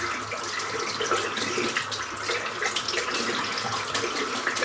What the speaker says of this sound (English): I'm going to rinse this brush out